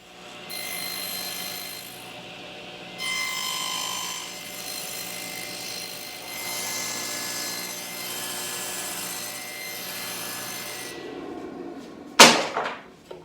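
A power saw buzzes through wooden pieces for a garden obelisk, sustained high-pitched whining cuts in several passes, with a sharp clatter of wood near the end.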